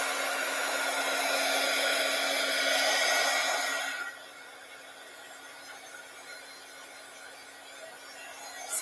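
A hair dryer blows steadily and loudly at close range over a craft project for about four seconds, then drops to a lower, quieter hum that continues to the end.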